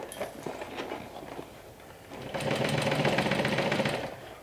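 A sewing machine stitches a seam with a half-inch allowance on a Swoon Harriet bag pattern scaled to 120%. After a quieter start it runs steadily, a close and loud continuous whirring buzz over the last two seconds.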